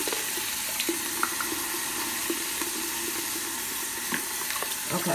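Tap water runs steadily into a bathroom sink as it is warmed for soaking dentures, a continuous hissing splash with a few small drips and clinks, close and fairly quiet with no talking.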